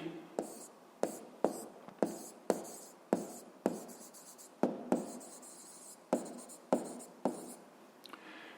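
Pen writing on paper in a school physics lesson: quick repeated scratchy strokes, close and clear, in short bursts with brief pauses, no talking.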